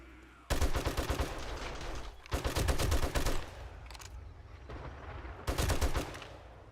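Turret gunfire in the survival game 7 Days to Die, firing in three loud, rapid automatic bursts separated by brief pauses, each a dense rattle of shots close by with no talking.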